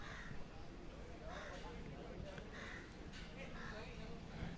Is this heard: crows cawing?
yes